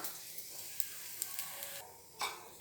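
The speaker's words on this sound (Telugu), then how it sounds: "ఈ సేమియా వేసేసుకొని దోరగా వేయించేసేసుకుందాము." Vermicelli frying in hot ghee in a pan gives a quiet, continuous sizzle. A few soft clinks of a spoon stirring punctuate it, with no talk.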